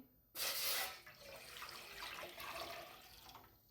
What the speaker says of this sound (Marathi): यामध्ये आपल्याला पाणी घालायचं आहे